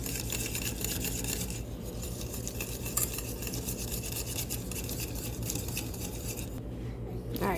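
A spoon stirs oatmeal and egg whites in a pan, giving a steady, close scraping and rubbing that runs almost unbroken through the whole stretch.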